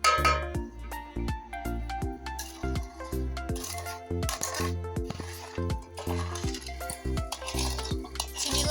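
A spoon stirs fruit cake batter and oil together in a bowl, giving steady, repeated clinking and scraping strokes in an even rhythm, close and moderately loud with no talk.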